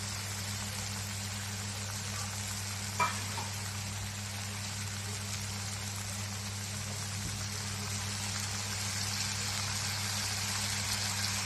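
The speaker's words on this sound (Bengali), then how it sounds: "ভাজা ভাজা করছি।" Ridge gourd frying in a pan for a Bengali tengra fish dish: a constant rain-like sizzle under a steady low hum, with one brief clink early on and no speech.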